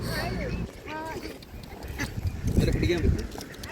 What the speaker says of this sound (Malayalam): ആളുകളൊക്കെ ഫുഡ് കൊണ്ടുവന്ന് താറാവിന് കൊടുക്കുന്നുണ്ട്